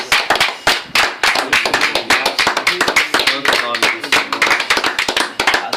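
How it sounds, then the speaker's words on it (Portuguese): A congregation claps in quick, uneven rhythm during a preaching service held inside a workplace, the sharp hand claps loud and close with a voice faintly underneath. "Pode aplaudir o Senhor."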